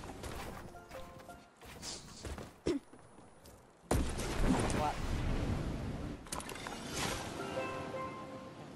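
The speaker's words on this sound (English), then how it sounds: "these people are shooting at us from up there" Video game gunfire from enemies positioned up on a hill, sharp bursts and cracks scattered irregularly among other game effects, mixed with a voice talking over the action.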